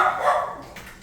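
A dog indoors gives a single short bark at close range, sharp and loud, followed by a brief fading tail.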